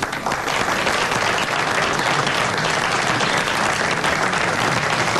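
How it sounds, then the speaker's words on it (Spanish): A crowd at a charity auction breaks into dense, continuous applause that holds at the same loud level throughout, with no voices above the clapping. "Señores, tanta generosidad bien merece un aplauso."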